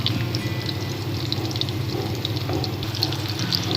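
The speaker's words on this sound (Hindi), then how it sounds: "इसमें तो हमारा प्याज ब्राउन हो रहा है" Onions browning in oil in a pan for aloo gosht with chicken, giving a steady, close, continuous crackling sizzle with no talk over it.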